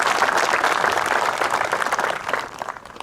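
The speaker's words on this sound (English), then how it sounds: "Let's have a little round of applause." A crowd at a yacht club sailpast ceremony gives a round of applause, loud dense clapping that holds steady and then begins to thin out toward the end.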